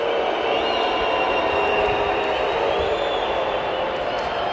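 Palmeiras supporters fill a football stadium with a steady, distant crowd roar, a broad wash of cheering and murmur with no distinct chants or claps standing out.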